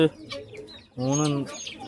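Backyard hen giving a short series of clucks and a drawn-out, tonal call, close and fairly loud, with a rooster and other chickens nearby.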